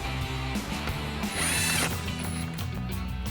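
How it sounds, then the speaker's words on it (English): A power tool with a 10mm socket whirs and ratchets while reinstalling upper mounting screws into plastic fasteners for LED headlights on a Toyota Tundra, steady mechanical buzzing with a brief higher-pitched burst midway. "Now we can reinstall our 2 upper mounting screws"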